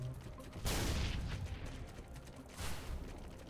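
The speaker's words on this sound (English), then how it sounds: "Hold to operate the sacrificial cannon." The sacrificial cannon in the video game Halo 3 fires two bursts about two seconds apart, each a harsh blast with rattling mechanical noise trailing off between them.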